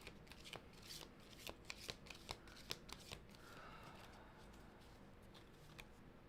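Tarot cards are shuffled at close range, a quick run of light riffling flicks and taps that fade into a soft, even rustle before a final faint click. No voice is heard.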